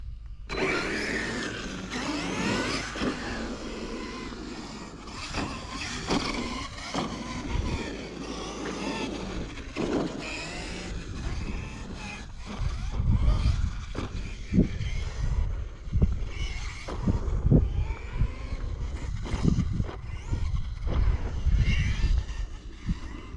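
A Kyosho USA1 RC truck on a V2 chassis drives with a quiet transmission, its motor whirring and rising and falling, with knocks and rattles of the chassis growing louder and busier in the second half, with no talk.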